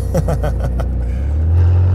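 A Corvette C8 Z06 with a modified exhaust rumbles close by, throaty and loud, burbling and then settling into a deep, steady drone as a voice speaks briefly over it.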